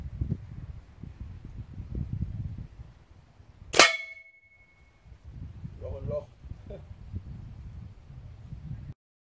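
A Webley Spector 4.5 mm break-barrel air rifle is fired at a can, giving one sharp, loud crack with a brief metallic ring over low background rumble, followed by a faint voice.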